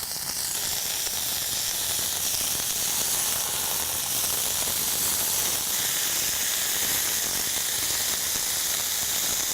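Chicken satay skewers fry in a hot pan with a steady, loud hiss and sizzle of oil and steam, continuous and close throughout, with no talking.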